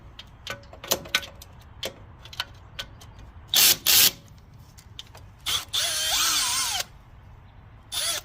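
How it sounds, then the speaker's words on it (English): A power tool on a Monster Moto mini bike loosening a T30 ground-cable bolt: several short, sharp drill bursts, close and loud, with clicks between them and a longer whirring run near the end. "Then you're gonna take loose this T30 bolt down here."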